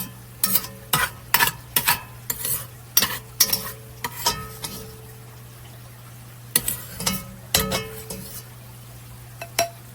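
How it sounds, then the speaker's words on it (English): Ground beef browns in a pot with a soft sizzle beneath bursts of a spoon scraping and stirring, coming in quick clusters separated by short pauses; close, with no talking. "so that we can brown our ground beef."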